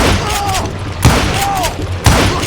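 Two loud, booming gunshots from the Western shooter game Call of Juarez: Gunslinger, spaced about a second apart, each a sharp close crack with a low thud, under excited shouting voices.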